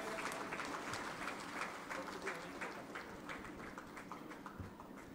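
An audience at a political campaign meeting in Uran, Raigad district applauds in a faint, steady wash of many hands that holds evenly for the whole stretch, with no clear voices standing out.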